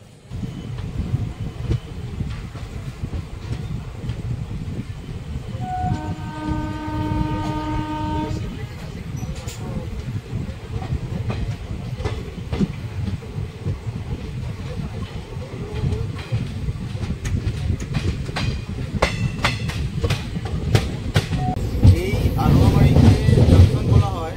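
The 13150 Kanchankanya Express runs on the Kolkata–Siliguri–Dooars line, its wheels rumbling and clacking steadily while a loud horn sounds for a couple of seconds early on; the rolling noise grows heavier near the end.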